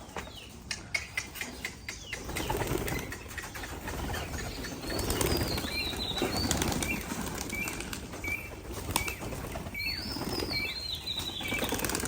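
Pigeons flapping their wings at a pigeon farm, a flurry of sharp wingbeats at first, then sustained fluttering with faint chirps and coos nearby.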